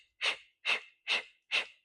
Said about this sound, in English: Here we go with the breathing.